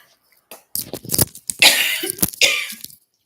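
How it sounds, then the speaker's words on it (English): Several harsh coughs burst out close to the microphone in quick succession, followed by throat clearing. "I try really hard not to cough into this thing."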